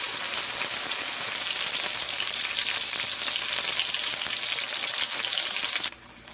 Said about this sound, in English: Now the chicken breast I've been frying for about 5 minutes